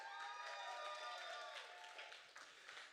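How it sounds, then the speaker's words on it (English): An audience at a live comedy show claps and cheers in a dense, steady burst of applause that thins out slightly toward the end, with no clear voice on top. "you're going to clap your hands like you're here just to see them"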